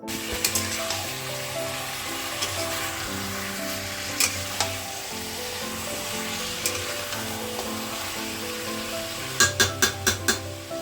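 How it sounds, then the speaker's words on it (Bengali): Chicken frying in a pan, a constant bright sizzle under a low background hum, with a few clinks early on and a quick run of metallic taps against the pan near the end. "এখন আমি চিকেন রান্না করছি"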